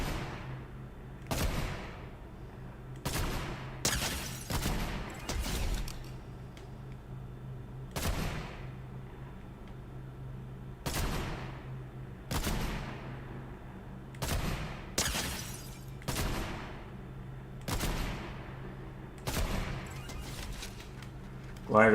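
Video game gunfire rings out as a series of sharp, separate shots spaced every second or two, some in quick pairs, standing clearly above a low, constant game backdrop.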